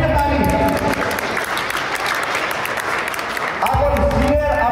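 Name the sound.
audience applause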